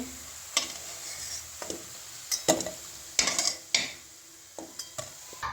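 Mung dal and green banana kofta fry in hot oil with a light sizzle, punctuated by intermittent sharp clinks and scrapes of a utensil against the pan, close by and irregular.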